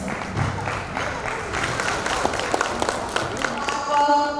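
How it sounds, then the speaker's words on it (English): A round of applause from the crowd at a school annual day celebration, clapping steady and fairly loud throughout, with voices talking underneath and toward the end. "Please give him a big round of applause"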